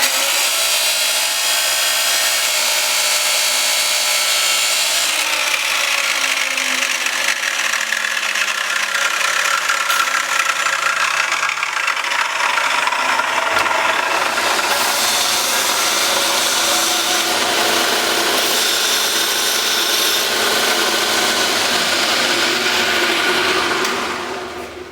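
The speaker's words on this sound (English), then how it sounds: "That's actually called a chop saw or cut-off saw." A chop saw, or cut-off saw, slices through scrap metal for a quail cage build, giving a loud, continuous grinding whine with a rising pitch that holds for about twenty-five seconds before cutting off at the end.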